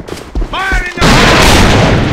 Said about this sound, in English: Fire in the hole! Enemy grenade!